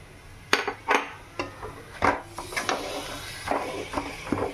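Mashed potato filling for aloo paratha stirred in a bowl, a series of close, irregular clinks and scrapes of a utensil against the dish, about a dozen knocks over a few seconds.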